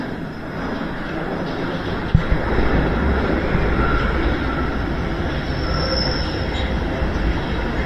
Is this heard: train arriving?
yes